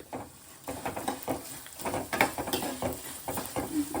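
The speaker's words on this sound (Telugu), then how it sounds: "తాలింపు పల్లీలు నేను వేపేస్తున్నాను కాబట్టి లాస్ట్ వేస్తున్నాను" Peanuts crackling and spattering in hot tempering oil for semiya pulihora, close, with uneven popping bursts and light stirring scrapes, no talk.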